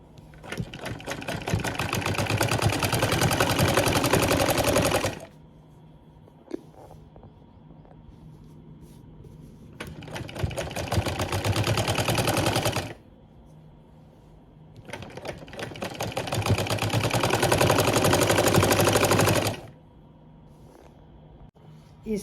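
A sewing machine stitches a seam over lace in three long, loud, rapid mechanical runs of about five seconds each, separated by quieter pauses with faint handling noises.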